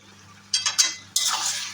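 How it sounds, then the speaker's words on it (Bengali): Soybean chunks stir-fried in a pan, with a few quick scraping clinks of a spatula against the metal followed by a steadier, louder rustling sizzle, close by and without voices. "এবারে কষানোর পালা সুন্দরভাবে কষানো হোক"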